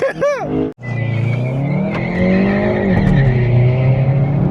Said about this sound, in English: The Golf GTI got a better launch, but now we're gone. The I30N has more power.